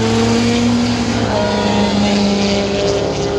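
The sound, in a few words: cars speeding past on a highway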